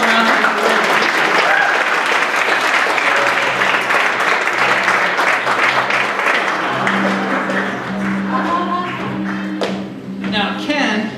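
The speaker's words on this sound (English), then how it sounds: "let's give Ken a warm round of applause" Audience applause greets a volunteer called up on stage at a magic and escape show, dense steady clapping filling the room for most of the stretch before thinning out toward the end, with some talk and music underneath.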